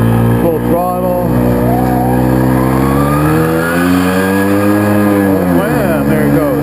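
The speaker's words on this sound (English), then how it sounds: "Standing start. Full throttle." A Tomos LX 50cc moped pulls away from a standing start at full throttle, its loud, close engine note climbing steadily in pitch as the revs build, with a brief dip and rise near the end as it keeps accelerating.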